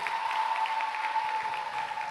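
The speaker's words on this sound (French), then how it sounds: "est-ce que vous pouvez applaudir pour le secteur pastoral de Port-Boué?" A congregation applauds at a closing Mass for the Missionary Childhood at a Sainte Anne church, honouring the Port-Boué pastoral sector; fairly faint, even clapping from a crowd, with a sustained tone running underneath.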